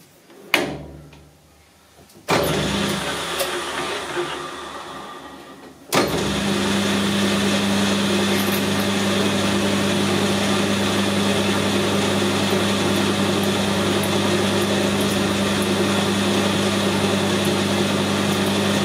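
A drill bores into a metal water tube for an FE35 tractor. A few clunks and a short clattering spell lead into a long, steady mechanical whir that holds at a constant pitch.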